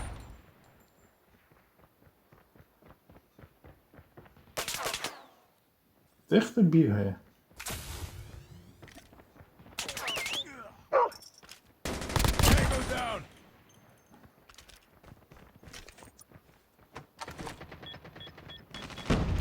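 Bursts of light machine gun fire from the Chopper in Call of Duty Mobile, loud repeated volleys breaking up quieter stretches of footsteps, with someone talking between and over the shots.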